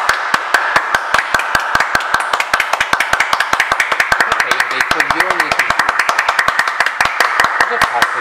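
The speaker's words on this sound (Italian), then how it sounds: "Facciamo un applauso anche alla Laura e a Paolo" Rhythmic group clapping during an unboxing of a Ginguiser collectible figure, loud, sharp, evenly spaced claps in a fast steady beat that continue throughout, with people talking and laughing over them.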